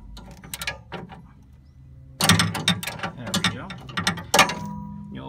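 An 11/16 socket wrench turning on the drain valve of a CNG high-pressure filter, a close mechanical clatter: a few quiet ratchet clicks first, then louder bursts of rapid metallic ratcheting in short runs.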